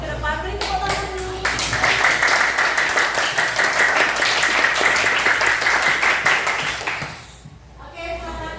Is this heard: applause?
yes